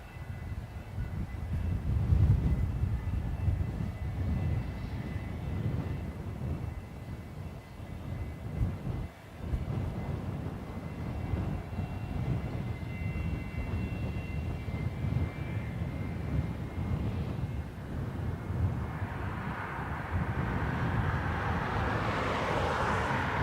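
A Ryanair airliner lands on runway 28 left at Dublin Airport, a steady distant engine roar with wind rumble holding throughout, swelling slightly toward the end.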